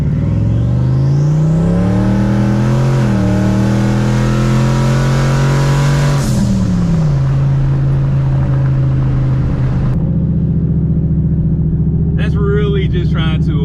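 A turbocharged SN95 Ford Mustang accelerating, its engine note climbing loudly and steadily, dipping at a shift, then holding a rising drone; close and dominant throughout, with a brief voice near the end.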